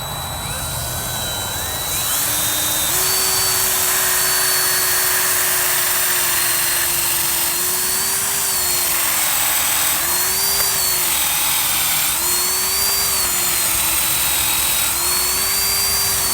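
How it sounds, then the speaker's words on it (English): Power drill with a 3/8 bit boring all the way through a gate post, a loud continuous whine whose pitch dips and rises as the bit bites into the wood. "You're going to take a 3/8 and you're going to drill all the way through the post"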